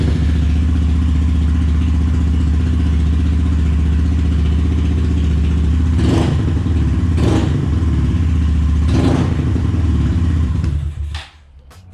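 A Honda Grom motorcycle engine runs loud and close with a steady low idle chug. It is revved three times in short bursts, then shuts off at the end.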